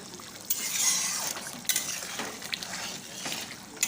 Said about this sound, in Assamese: তাক ভালকৈ লৰাই দিছোঁ।